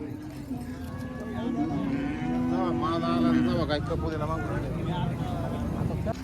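Cattle at the Kopargaon cow market give drawn-out, wavering moos amid a steady crowd murmur, with people talking nearby throughout.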